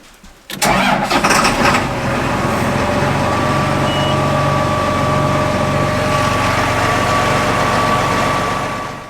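A John Deere 1038 Challenger tractor engine cranks briefly and catches, then settles into a loud, steady idle close by.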